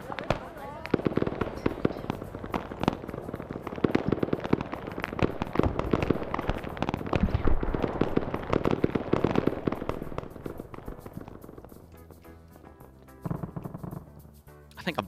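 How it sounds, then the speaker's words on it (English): White phosphorus rounds bursting during a Vietnam War defence of Khe Sanh in Arma 3 SOG, a dense, continuous crackle of popping explosions at loud, steady volume that thins and fades toward the end. "they're putting Willy Pete's rounds downrange as well"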